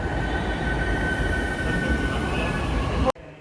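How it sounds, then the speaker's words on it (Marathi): A metro train arriving at a station in Pune rumbles loudly and steadily with a thin high whine, close by, then the sound cuts off abruptly near the end. "मेट्रो आली मेट्रो आली"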